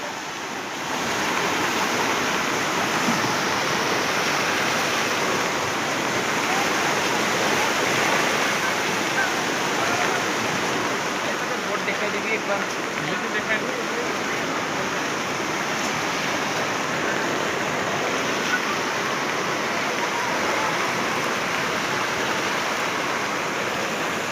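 Continuous rushing river water fills the scene, a steady broad roar with a little wind, close and unbroken throughout.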